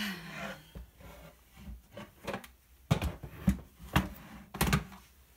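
Leftover ephemera bin being dragged over and grabbed on a crafting desk, a run of wooden thunks, rubs and scrapes with a few sharper knocks, close and fairly loud, no talking.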